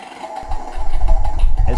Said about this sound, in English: As throttle inputs are made, the simulated engine noise responds.